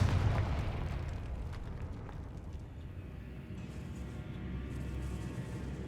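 Confringo blasting spell going off in a wizard video game, a steady low rumbling roar that holds loud through the whole stretch with no talking over it.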